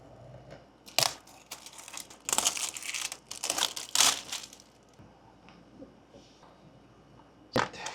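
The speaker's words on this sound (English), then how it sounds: "So let's go and let's unbox this." Packaging for a BetaFPV Meteor75 Pro drone is handled close up: loud bursts of crinkling and crushing plastic and cardboard, irregular rustles and sharp tears, with a final crackle at the end.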